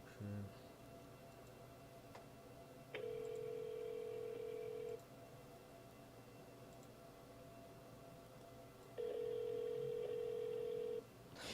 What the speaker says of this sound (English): What the fuck's going on with this phone call?